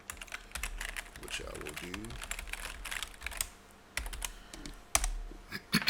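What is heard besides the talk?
typing a password on a computer keyboard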